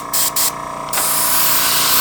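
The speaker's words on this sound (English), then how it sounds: "And then I'll spray it with dull coat and it'll all go away." An aerosol can sprays dull coat onto an N scale model locomotive during weathering, with short close bursts of loud hiss followed by a longer continuous spray.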